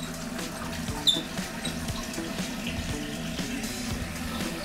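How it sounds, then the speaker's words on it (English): Water flows into a newly installed toilet as its supply is turned on, a steady low rushing and hiss with a small squeak near the start, continuing evenly throughout. "So I'm gonna go ahead and turn the water on."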